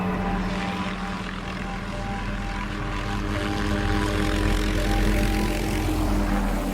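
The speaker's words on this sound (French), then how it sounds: "Son fils l'y attend avec un hélicoptère, direction Monaco." A helicopter flying steadily and close, its engine and rotor producing a continuous drone with strong low-frequency hum throughout, no talk.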